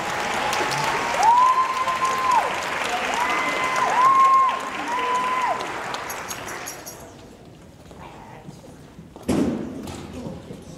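Loud audience clapping fills a school jazz band winter concert for about six seconds, over a faint sustained tone, then fades into quiet room noise before a single dull thump.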